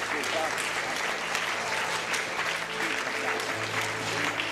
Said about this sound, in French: Komm, mach mal einen Applaus für uns.